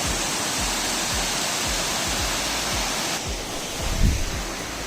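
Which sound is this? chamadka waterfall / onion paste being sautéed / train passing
chamadka waterfall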